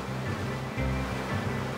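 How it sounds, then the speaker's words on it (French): Ocean waves that have crossed thousands of kilometres of icy open sea break on land as a steady, loud roar of surf with a heavier surge near the middle, no voices. "Ces vagues ont parcouru des milliers de kilomètres en plein océan glacial avant de trouver une terre sur laquelle se fracasser."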